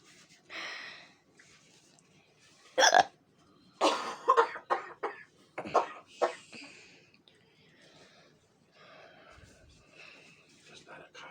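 Several rough coughs and throat-clearing bursts from a person indoors, clustered in a loud middle stretch with quieter breathing around them, amid casual talk.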